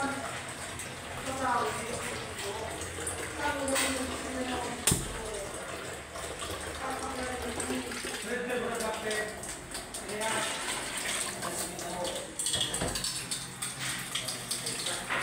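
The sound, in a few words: water being added to a pot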